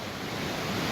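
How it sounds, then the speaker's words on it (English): The Anahola stream on Kauai rages in a sudden flash flood, a dense continuous roar of rushing water that sounds loud and steady across a very short stretch with no voices. "The normally sedate Anahola stream has turned into an instant raging flash flood."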